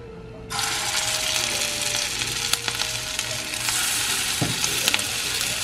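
Food hits a frying pan holding a little leftover oil from frying French fries and bursts into a loud, steady sizzle that continues close up, with faint clinks of stirring and no talking.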